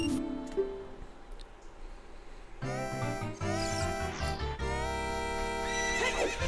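Epona, the horse in the Ocarina of Time video game, gives a neigh amid game music with bright tonal layers; no one speaks.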